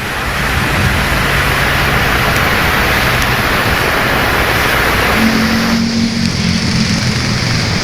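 Heavy rain falls on a highway as vehicles crawl slowly through the downpour, making a loud, dense, continuous rushing hiss with faint low engine hum and a brief tonal whine near the end.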